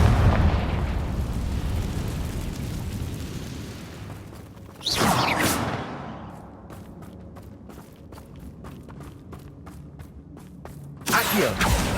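A Confringo explosion spell in Hogwarts Legacy sets off a series of loud, rumbling blasts: a long roaring burst, a sharp crack near the middle, then rapid crackling pops and another blast at the end.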